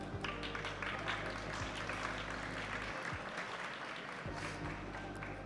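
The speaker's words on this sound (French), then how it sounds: "Je pense que ça s'applaudit." An audience applauds steadily at a talk event, with many hands clapping in a continuous wash, moderately loud and unbroken.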